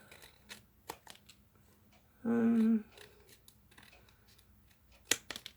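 Small scissors snip through paper craft embellishments with a few light, quiet clicks and cuts, plus one louder half-second rasp of cutting partway through, in a quiet room.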